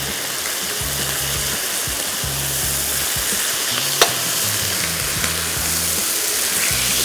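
Spiced chatpati chicken sizzles steadily on a hot grill pan as it is turned, a constant loud frying hiss broken by a few short scraping thumps and one sharp tap.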